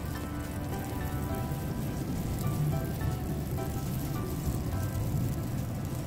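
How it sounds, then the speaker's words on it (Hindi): Butter melts in a pan to start a white sauce for chicken fettuccine Alfredo, giving a soft, steady crackling sizzle that holds evenly throughout at low volume, with no talking. "यहाँ हमने लिया है 1 टेबलस्पून बटर, इसको हम मेल्ट कर लेते हैं"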